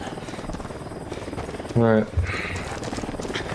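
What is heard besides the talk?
helicopter taking off in video game Ghost Recon Wildlands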